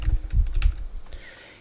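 Quick clattering keystrokes on a computer keyboard as a file name is typed, a short close burst of taps that thins out and fades to quiet within a second or so.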